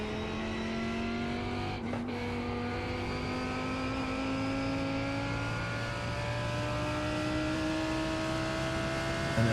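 A GT3 race car in the iRacing sim at Suzuka, its engine droning and revving steadily at high pitch throughout, with a brief dip in the note near two seconds as it shifts, loud and continuous with no talk.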